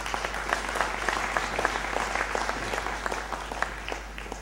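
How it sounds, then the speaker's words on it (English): Audience applause at the launch of an inequality report in Kenya, a steady room-filling clapping from many hands that holds at an even level throughout without voices. "Please give them a round of applause."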